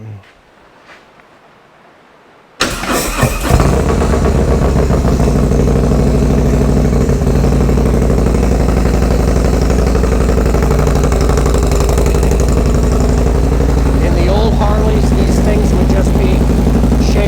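A Harley-Davidson V-twin 2.1 liter big bore Stage 4 motorcycle engine starts after a few quiet seconds. It settles into a loud, steady, rumbling idle close by, with faint talk around it.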